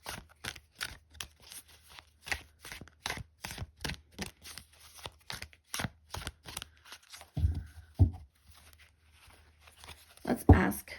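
A tarot deck is riffled and shuffled in quick, crisp bursts of papery clicks that repeat steadily, and a voice briefly cuts in near the end.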